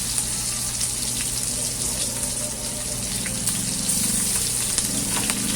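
Garlic and aromatics sauté in hot oil in a home kitchen pan, giving a steady, close sizzle and crackle throughout with occasional louder spatters.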